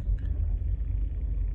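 Inside a moving car, a steady low rumble of road and engine noise fills the cabin, close and unbroken, with no one talking.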